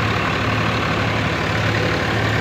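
A tractor engine runs steadily in a field, a loud continuous low rumble with a throbbing idle-like drone that holds unbroken throughout.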